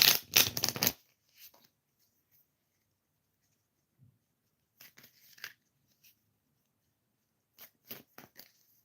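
Tarot cards are shuffled in quick riffling bursts: a long flurry at the start, then brief pauses and several short, crisp shuffles later.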